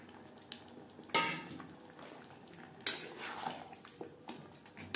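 Boiled potatoes and green jackfruit are stirred into spices in a pan, making quiet scrapes and a couple of sharper clanks of the utensil against the metal over faint background noise, with no speech.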